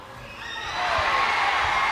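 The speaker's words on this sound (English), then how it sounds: "if you guys could hear the crowd just went crazy" Spectators at an IFSC Climbing World Cup lead semi-final in Atlanta erupt in cheering that rises and holds loud, a broad wash of shouts and whoops from a large crowd.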